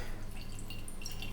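Ailsa Bay Sweet and Smoke whisky is poured from a heavy bottle, a quiet, steady liquid trickle with soft dripping over a low hum, close by and with no talking.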